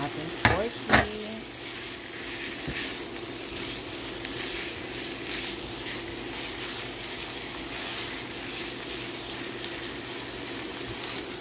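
Pork frying in a pan with caramelized onions for Filipino sweet spaghetti: a continuous loud sizzle with a couple of sharp utensil knocks at the start, then steady stirring, no voices.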